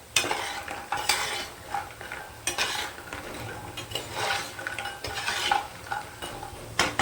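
Fried lentil dumplings (bori) are lifted out of hot oil with a metal spatula, giving repeated scraping and clinking against the pan over a soft sizzle, no talk.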